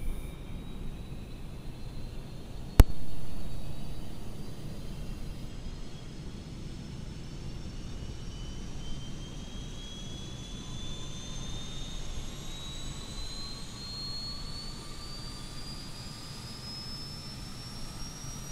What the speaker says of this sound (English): Both sides you can hear the APU start up.